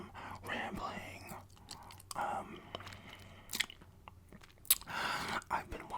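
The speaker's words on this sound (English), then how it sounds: "chewing gum, rambling." Gum chewing close to the mic, with soft wet smacks and clicks in an irregular rhythm, set among quiet whispered rambling.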